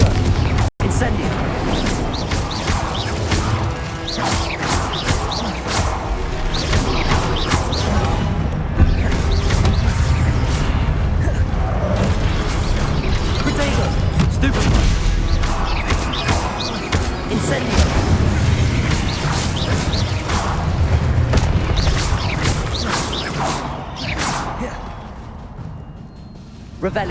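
Hogwarts Legacy spell combat with Confringo, Incendio and Stupefy casts, a dense run of booming blasts, crackles and impacts over a rumbling game score, with a voice calling out spell names throughout.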